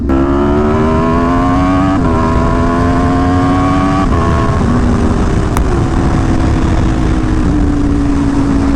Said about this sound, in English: this bike is so fast right now with the velocity stacks and the new tune